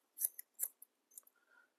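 Scissors cut hair horizontally during a haircut, giving a few crisp, close snips in quick succession, soft and quiet against near silence.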